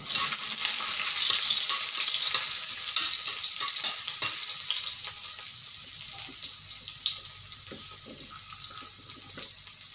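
Garlic fries in a pan while paksiw na isda with tomatoes is being cooked. A loud, dense sizzle gradually softens into lighter crackling and popping, heard close and without talking.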